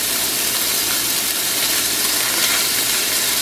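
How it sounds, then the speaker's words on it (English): Mayonnaise-coated halibut pieces sizzle loudly in a hot pan, a dense, continuous hiss that stays steady and close the whole time, with no one speaking. "Put those thicker pieces out towards the middle where the pan is hottest."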